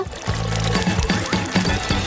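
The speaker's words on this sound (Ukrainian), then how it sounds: "Залишили зробити невеликий отвір в лимоні і видавати весь сік у склянку." Lemon juice is squeezed through a small hole in a lemon into a glass, giving a close, steady pouring trickle with soft repeated splashes.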